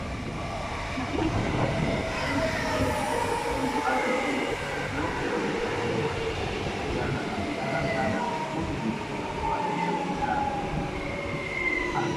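A non-stopping train rumbles through La Llagosta station at steady speed, wheels clattering and squealing faintly on the rails, with station echo and no pause or stop.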